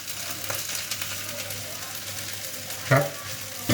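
Crab fried rice being stir-fried in a pan, an ongoing sizzle broken by scraping strokes of a spatula, with two louder clattering tosses near the end.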